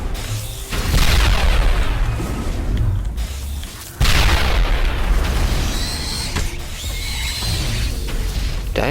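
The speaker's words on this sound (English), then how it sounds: "Here it comes. Some grenades, you freaks." Grenades explode during a firefight in the video game Mass Effect: two loud, deep booms, each followed by a long rumbling roar with mechanical crackle, filling the whole stretch.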